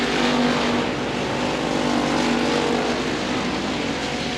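Factory stock cars race on a dirt track at Devils Bowl, a loud, continuous roar of engines, steady and close, with no pauses through the stretch.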